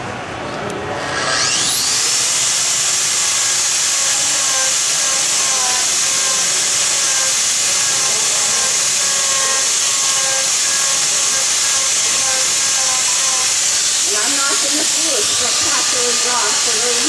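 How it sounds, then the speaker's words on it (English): A high-pitched power carver whines up and holds a steady, loud hiss as it sands a wood carving, with a faint voice briefly underneath. "And then I'm going to show you how I sand it."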